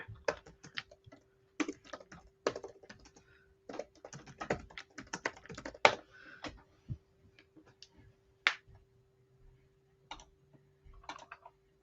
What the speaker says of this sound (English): that's one with typewriter